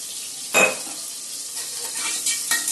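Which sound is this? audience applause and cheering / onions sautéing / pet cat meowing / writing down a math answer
onions sautéing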